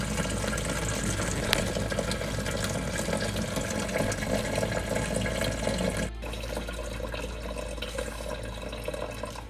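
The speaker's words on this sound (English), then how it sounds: "we're gonna let this whole thing drip into the great big jug" Red wine dripping and trickling from a boxed-wine bag into a large 2.5-gallon jug, a steady close liquid flow that runs continuously, with a brief dip partway through.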